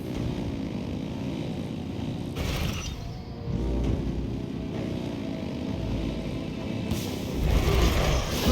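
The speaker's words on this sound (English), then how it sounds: "Rev the engines!" Engines revving in the Genshin Impact video game, with deep rumbling bursts that surge and fall, a brief dip in the middle, and a louder roar building at the end.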